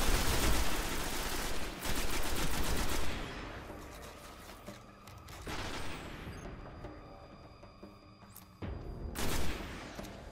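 Rapid gunfire from a rifle in the video game Destiny, loud bursts of automatic shots in several clusters with short pauses between them, nearly free of talk.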